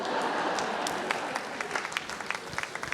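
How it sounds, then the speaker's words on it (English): A school convocation crowd applauds third and fourth grade published authors, dense clapping that thins toward the end into scattered individual claps. "Another big round of applause for our 3rd and 4th grade published authors"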